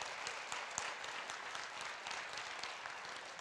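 Church congregation clapping for young people, a dense steady patter of many hands heard at a moderate distance, continuous throughout.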